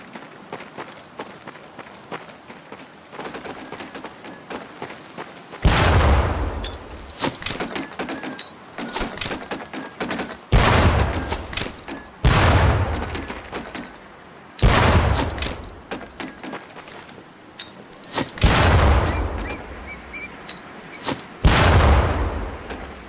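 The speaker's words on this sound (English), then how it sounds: "Pull the pin and let them fly. See if you can hit some of those barrels out there." Training grenades burst in a row of loud, booming blasts near target barrels on a Marine boot camp range in Medal of Honor: Pacific Assault, roughly five heavy explosions spaced several seconds apart with quieter ambient noise and faint footsteps between them.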